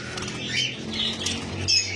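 Lovebirds flutter and flap their wings at a bird farm, a busy continuous rustle of wingbeats with faint chirps and squawks mixed in, close and fairly steady throughout.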